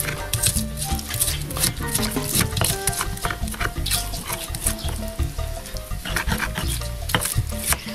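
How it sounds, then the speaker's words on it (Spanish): Garlic and onion being crushed in a mortar for homemade guacamole, a steady run of loud grinding, scraping and knocking strokes that carry on without a pause and with no talking. "Vamos a empezar por machacar el ajo"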